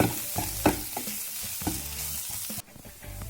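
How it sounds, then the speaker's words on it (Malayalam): Kashmiri chili powder is stirred into masala frying in a pan for rajma masala: a steady sizzle with repeated scraping strokes, close and fairly loud, then the frying drops off sharply near the end. "ഇതിലേക്ക് ഇനി പച്ചമണം മാറുന്നവരെ ഒന്ന് ഇളക്കാം."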